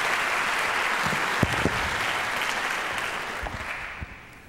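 Sustained applause from an audience welcoming a speaker to the stage at an evening lecture, a dense wash of clapping that stays steady with a few sharper claps, then tapers slightly at the end.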